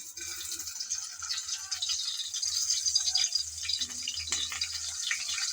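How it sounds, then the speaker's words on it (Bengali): Shrimp dropped into lightly heated oil in a frying pan give a close, busy crackling and rattling sizzle that carries on steadily without any speech. "তেল হালকা গরম হয়ে আসছে, এখন দিয়ে দেব চিংড়ি"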